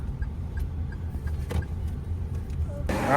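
A Toyota Yaris Cross idles steadily at an airport, a low, even engine hum with faint ambient noises and a brief rustle near the end.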